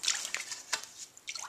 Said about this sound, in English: I just have to stir them once in a while.